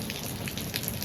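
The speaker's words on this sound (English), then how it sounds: "We're now starting to get a more steady rain." Light monsoon rain begins to fall, with scattered soft drops pattering over a steady, hissing wash of rainfall, brief and without voices.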